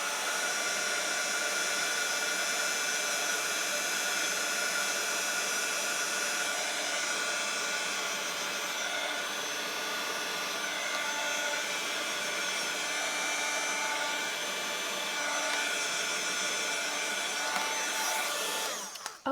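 Crafting heat tool blowing hot air over embossed vellum: a steady, loud whirring fan roar with a bright airy hiss, running continuously close up and cutting off right at the end.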